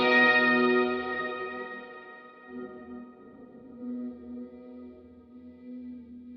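A sustained guitar tone through a Strymon Cloudburst reverb pedal rings out, then wobbles and pulses with a warbling, fluttering reverb shimmer that swells and fades in waves.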